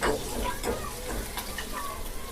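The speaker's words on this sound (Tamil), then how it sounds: "எண்ணெய் சுடுது இஞ்சியும் பச்சை மிளகாவும் போட்டாச்சு அதை கொஞ்சம் வதக்கிக்குவோம்" Ginger and green chili sauté in hot oil in a pan, a soft, continuous close sizzle with light stirring scrapes throughout.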